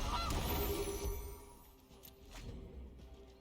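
Goose card honking in the digital card game Magic the Gathering Arena, a few loud nasal honks early on that fade into softer game effects, with no talk over them.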